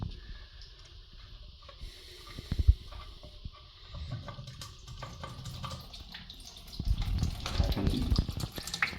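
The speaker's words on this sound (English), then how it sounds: "See the water slowly coming in from the blocked sink." Water from a blocked sink seeps slowly back into the basin, a soft steady trickle and gurgle with occasional small splashes and bumps, swelling somewhat louder near the end.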